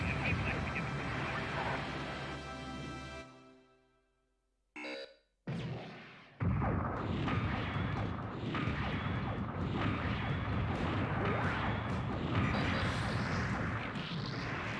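Explosions ring out as base targets are destroyed in the Gundam: Journey to Jaburo video game, a sustained loud burst of blasts and debris after a brief silent gap, dense and continuous through the rest.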